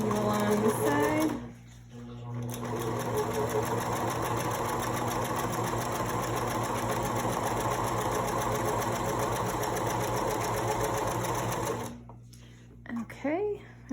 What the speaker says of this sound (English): I'm just gonna hold it down and sew right over it.